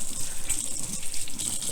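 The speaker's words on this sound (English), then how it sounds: "So I'm just gonna wash my hands real quick," Tap water runs steadily into a kitchen sink as buttery hands are rinsed, a close continuous splashing hiss with slight wavering, heard on its own.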